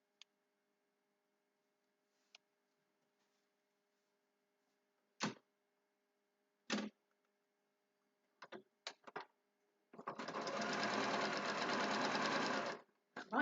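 After a few scattered clicks and taps, a sewing machine runs steadily for about three seconds, a close, buzzing whir of needle stitching through fabric that stops abruptly.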